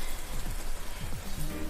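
Heavy rain falls in Yamaguchi city during a thunderstorm, a steady, fairly quiet hiss of rain on surfaces with faint low rumbling underneath and no voices.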